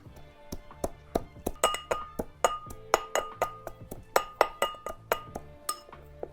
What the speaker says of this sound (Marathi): खलबत्ता घेतलेला आहे लसूण पण ठेचून घेते